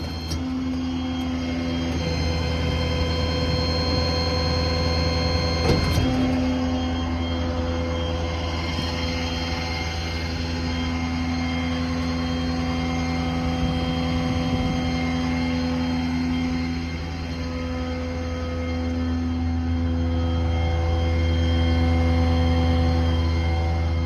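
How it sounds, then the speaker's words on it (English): A 2018 Ford F550 diesel service truck with a Tiger crane idles up steadily with the PTO engaged, producing a loud, continuous low engine drone with a sustained hum and one brief knock near the start, and no voices. "PTO set to on, and that will automatically idle the truck up as well"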